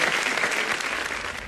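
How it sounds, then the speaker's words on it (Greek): Dense, steady applause from a crowd, loud and continuous for a short burst with no gaps between claps. "Μπράβο, ένα χειροκρότημα, το βρήκε!"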